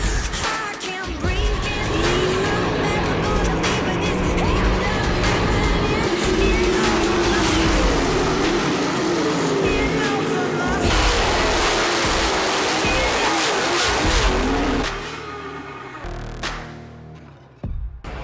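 Race cars roar around a dirt track with a gravel cushion, a dense, continuous engine drone and rumble layered with crowd and wind noise, fading near the end as a caution comes out.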